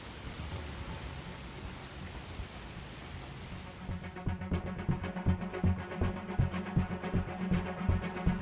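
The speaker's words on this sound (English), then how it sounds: "the rain is coming down" Rain falling during stormy, windy weather, a steady hiss of drops for the first few seconds, then heavier irregular patters and splashes striking a nearby surface, with no voices.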